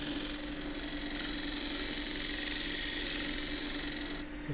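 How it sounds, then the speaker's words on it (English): Wood lathe running as a shear scraper works detail near the rim of a turned cylinder, a steady whirring hum with a continuous thin scraping hiss that holds level and then cuts off abruptly near the end. "I'm just going to shear scrape a little bit of detail up at the top here"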